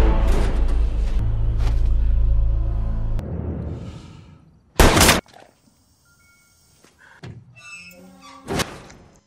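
Gunshots from a film scene ring out as a few sharp, loud isolated cracks with thuds and squeaks between them, after a stretch of rumbling noise.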